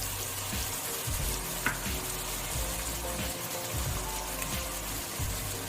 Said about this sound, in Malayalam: നമ്മൾ ഇനി ഇതിലേക്ക് ചേർക്കുന്നത് കടുക് പരിപ്പാണ്.